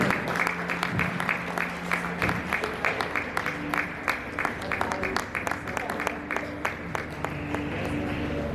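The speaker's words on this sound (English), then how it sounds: "Please do give a huge round of applause." Audience at a regional forum held in a school, clapping steadily in a dense, sustained round of applause with a faint background voice.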